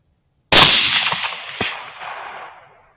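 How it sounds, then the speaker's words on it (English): A single sharp rifle shot, fired at a coyote about 260 yards away, cracks loudly and then rolls off into a long fading echo across open ground. "I'm gonna try shoot him."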